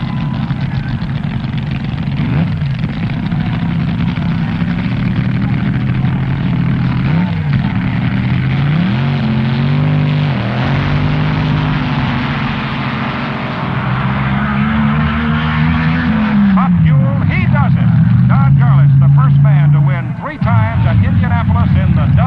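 AA/Fuel dragsters roar through the 1968 Indianapolis Nationals finals, loud engine howls rising and falling in repeated surges over a steady rumble, with a voice talking over much of it.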